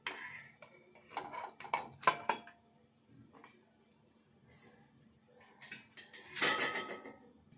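Raw washed chicken tipped into a kadai for gongura chicken, making a few sharp metallic clatters and scrapes in separate bursts, close by, with quiet gaps and no talking.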